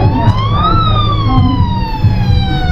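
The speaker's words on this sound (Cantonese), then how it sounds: "哇，好多消防車嘅都嘅車。" Fire engine sirens on a New York street, a loud wailing siren whose pitch rises and then falls in slow sweeps, with steady traffic rumble underneath and no talking.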